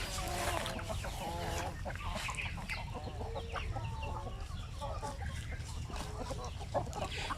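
Several chickens clucking and cackling in short, overlapping bursts over a low background rumble, fairly close and moderately loud.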